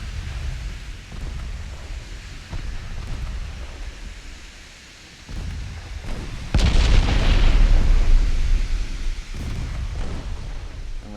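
Naval shellfire and torpedo hits in Ultimate Admiral Dreadnoughts: scattered distant gun booms over a hissing sea-like background, then a heavy close explosion with a sustained rumbling roar and one more thud after.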